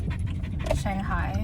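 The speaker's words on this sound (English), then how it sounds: "That's my dog." A dog pants rapidly and close by while a person speaks over it.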